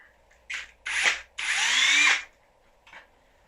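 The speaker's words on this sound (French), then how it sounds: "Celle-ci, il faut que je la visse." A power drill drives a screw into wood with a Wolfcraft Undercover pocket-hole jig: a few short whirring bursts, then one longer rising spin of about a second, close and loud, with a brief blip after.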